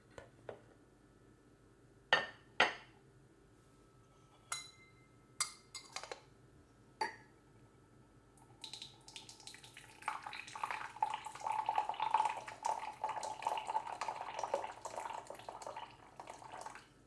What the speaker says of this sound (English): Now I will pour into my cup.